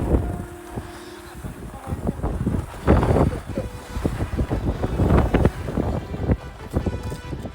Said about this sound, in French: Il y a trop de vent, t'entendras pas.